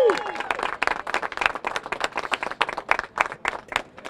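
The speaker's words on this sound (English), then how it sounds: "Give yourselves a round of applause." Audience applause at a grand opening ceremony in New Bedford, with distinct individual claps and crowd clapping close by, irregular and lively, accompanied by some cheering voices and a brief whistle-like tone at the start.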